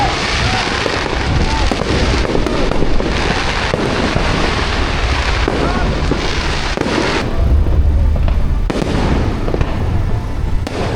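Fireworks at a Christmas tree lighting at Quezon City Hall crackle and pop in dense, continuous volleys, with deeper booms rolling underneath and a brief lull near the end.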